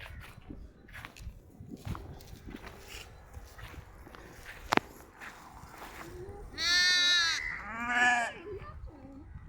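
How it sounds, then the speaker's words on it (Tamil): A young goat kid in a farm goat pen bleats twice in quick succession, loud and close, after a stretch of quiet rustling and footsteps. "ஆட்டுக்குட்டி கூட விளையாண்டுக்கிறோம்"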